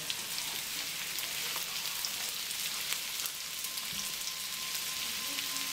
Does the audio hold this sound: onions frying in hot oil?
yes